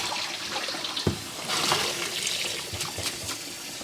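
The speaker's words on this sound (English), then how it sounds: "I'll just use a lot of cold tap water to get them cooled down" Cold tap water gushes steadily, a close hissing, splashing flow with a brief knock near the start.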